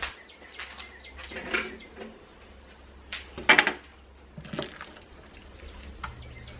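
A pot of kielbasa and Great Northern bean soup is stirred, giving soft scrapes, knocks and wet sloshing at irregular intervals, close and moderately loud, with a brighter clink partway through and no speech.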